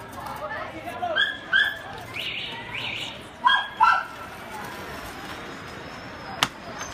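Pomeranian mix puppies at a puppy sale give a few short, sharp barks and yips in bursts, over a steady background and indoor chatter.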